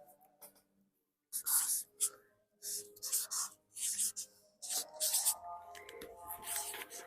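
A pen writing an answer on paper, a series of close scratchy strokes in irregular bursts with short pauses between them, with faint talk in the background.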